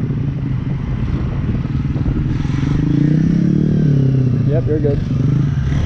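A Kawasaki Z125 motorcycle revs steadily during wheelie practice, its engine droning loudly throughout and swelling slightly midway, while people talk over it.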